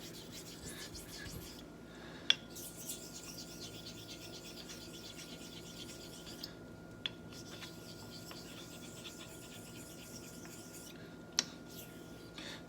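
A Filarmonica 14 straight razor is honed on a 5K whetstone with slurry: soft, steady scraping strokes run in long passes, broken by brief pauses and a few light clicks as the blade turns.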